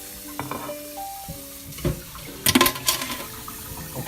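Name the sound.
washing dishes under running water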